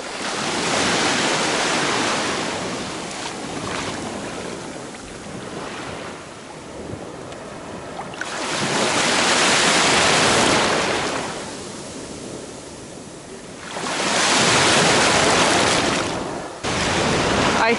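Waves breaking on a sand-and-pebble beach at Alanya, Turkey, on a hot October day. They come in broad rushing surges every few seconds, loud and close, with wind buffeting the microphone in between.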